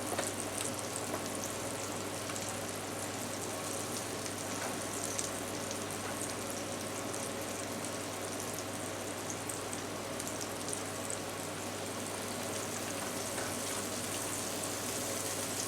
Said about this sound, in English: It's not really sizzling enough for me.